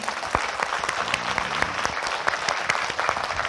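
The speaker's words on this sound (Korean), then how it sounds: "하나님께 영광의 박수 드립니다." A congregation at a Korean church seminar gives a round of applause, a steady, full wash of many hands clapping together at moderate distance, sustained for several seconds with no talking.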